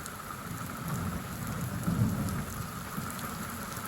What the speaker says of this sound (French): très forte pluie.